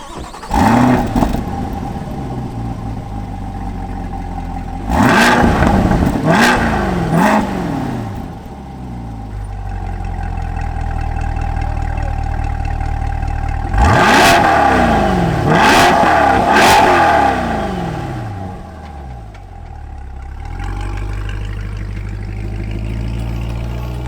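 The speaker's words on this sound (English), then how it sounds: "I should start it up and drive out of here so you guys can hear it" A Chevrolet Corvette C8 in track mode starts up, then its engine revs hard in two clusters of sharp bursts, each rise falling back to a steady idle hum close by.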